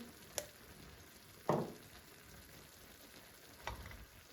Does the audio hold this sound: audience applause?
no